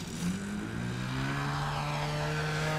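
A propeller-driven UAV lands and slows down in light wind, its engine drone steady and fairly loud as the pitch gradually falls, heard alone without talk.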